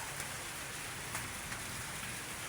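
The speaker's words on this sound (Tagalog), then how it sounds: "ulan." Rain falls as a faint, even hiss with occasional soft drop ticks, distant and quiet, with no one talking.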